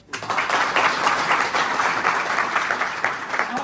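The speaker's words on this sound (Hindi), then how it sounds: "तालियां बजा दो" An audience breaks into applause at a talk, starting abruptly and holding a full, steady roar of many clapping hands for several seconds.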